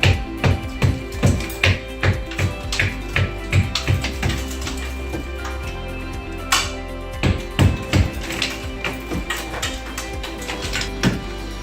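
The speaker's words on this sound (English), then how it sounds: "now I'm going to break that edge so that I can get a nice square face to put my new drywall in" Old plaster wall being broken along a scored edge to square it up for a drywall patch: a steady rhythm of sharp tapping and hammering knocks, close and fairly loud, with small crumbling crackles between the hits.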